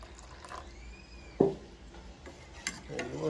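Cooled boiled milk is mixed into a lukewarm mixture, with a soft pour, a sharp knock of a spoon or vessel, and light clinking stirs against a quiet background, no talk.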